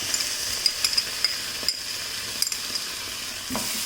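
Spaghetti sauce with chilli sauce, soy sauce and tomato ketchup stirred in a pan, a steady soft sizzle with light scraping clicks of the spoon at an irregular pace, close and alone.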